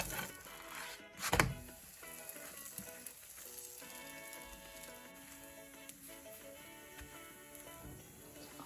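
Gozleme, a Turkish stuffed flatbread, fries steadily in oil in a pot with a soft continuous sizzle, broken by one louder scraping clatter as it is flipped, then the quiet frying continues.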